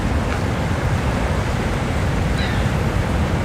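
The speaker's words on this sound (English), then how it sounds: "the sheer power of the force of these falls" Niagara Falls roars as a dense, unbroken wash of falling water, loud and steady throughout with no voices over it.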